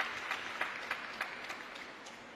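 Crowd applause at a table tennis match, a brief patter of clapping with a few sharper claps on a steady beat, fading slightly, fairly distant and with no voices.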